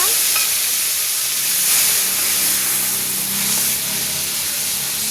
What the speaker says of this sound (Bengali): দেখেন তেলের মধ্যে কিন্তু আমি টমেটোটাকে দিয়ে দিলাম